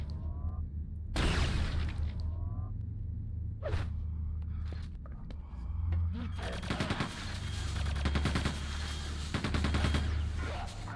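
Rapid weapon fire from the shooter game Quake II, with clusters of sharp shots and machine-gun bursts in a busy firefight, along with brief voice moments.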